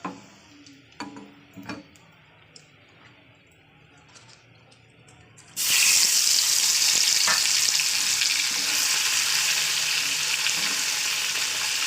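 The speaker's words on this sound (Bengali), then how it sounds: "দেখতে পাচ্ছেন কত ছোটো মাছ ভাজা হয়ে গেছে" Small fish frying in a pan on a gas stove, a loud steady sizzle that bursts in suddenly halfway through after quiet clinks and taps, then continues alone without speech.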